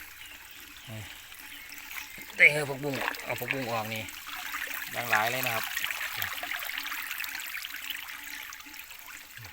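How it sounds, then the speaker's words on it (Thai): Water trickles and flows in a catfish pond kept in old earthenware jars. A faint, continuous running sound sits beneath someone speaking for most of the clip. "บริเวณน้ำไหล"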